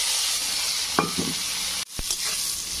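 Bitter gourd sizzles in hot oil with nigella seeds and green chillies, alongside potatoes that were fried earlier. A steady frying hiss runs throughout, broken by a few scraping strokes of a spatula and one sharp knock against the pan.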